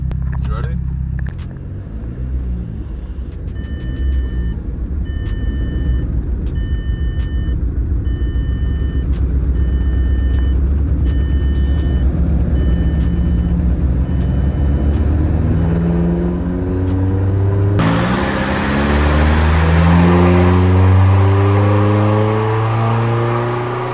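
Hybrid-turbo Skoda Fabia vRS on a dyno: the engine idles, then climbs in a long rising rev run that surges loudly near the end, with a few electronic beeps early on and people talking over it.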